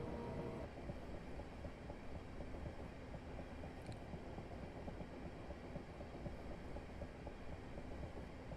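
Continuous rolling rumble of a Medway Valley passenger train in Train Simulator Classic, steady wheel and motor noise throughout with a faint brief squeal midway, no voices.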